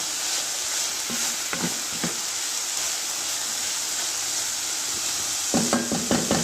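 Banana blossom stir-fry with grated coconut sizzles steadily in a pan, with a few stirring scrapes early and a quick run of clattering strokes near the end, no voices.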